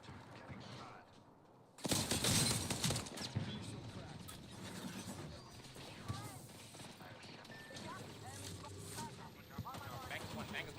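Bursts of rapid gunfire in the video game Apex Legends, a loud cluster of shots about two seconds in followed by scattered quieter pops and in-game effects, with speech in the background.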